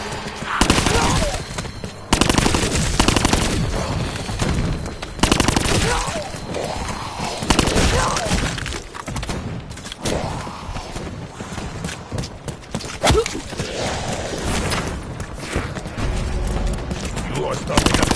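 Gunfire in Call of Duty Black Ops 4 Zombies, repeated loud bursts of shots in rapid clusters throughout, with talking over the game action.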